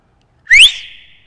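A single loud, close whistle blast used as a signal in a comedy series scene: a sharp upward-sliding shrill tone that holds briefly and fades, with silence before it.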